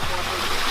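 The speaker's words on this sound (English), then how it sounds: "The prayer bell with water running through." Water running through a water-driven prayer bell in a Bhutanese village, a brief close, steady gush of flowing water with a faint low hum beneath.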